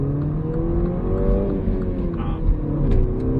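A 2017 Mini Cooper S engine revving during a test drive, a steady loud close rumble with rising harmonic tones as it pulls, with no talking.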